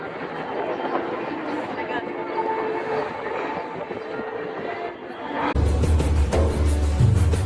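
A metro train in Istanbul rumbling along, a steady rolling roar with faint chatter, then a sudden louder low-pitched surge of wheel and motor noise near the end.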